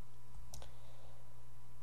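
A single faint computer mouse click in a quiet room, one short sharp tick with a brief echo and nothing else around it.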